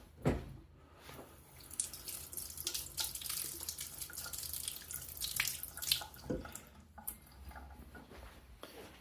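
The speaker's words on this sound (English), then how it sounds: "Let's just rinse that off." Running tap water splashes over a vintage Mamod SE3 live steam engine part being rinsed, a close, irregular stream of gushing and dripping sounds with brief squishy handling noises.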